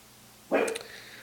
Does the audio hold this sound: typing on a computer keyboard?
no